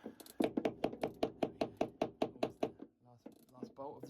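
Repeated metallic banging while the last seacock bolt is worked free aboard a Rival 41 sailboat, about a dozen sharp knocks in a steady rhythm, fairly close, followed by a brief voice.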